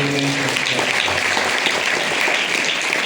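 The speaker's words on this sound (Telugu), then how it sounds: "చప్పట్లు కొట్టి" A church congregation claps during a Christmas Day service, loud continuous applause from many hands, close and unbroken for the whole stretch.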